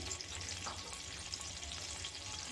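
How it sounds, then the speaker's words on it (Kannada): Half a spoon of cumin seeds sizzles in hot oil for an onion capsicum gravy, a steady close crackling fry with faint stirring and no voices. "ಅದೇ ಎಣ್ಣೆಗೆ ನಾವು ಇಲ್ಲಿ ಸ್ವಲ್ಪ ಅರ್ಧ ಸ್ಪೂನಷ್ಟು ಜೀರಿಗೆನ ಹಾಕ್ಕೊಳ್ತಾ ಇದ್ದೀನಿ"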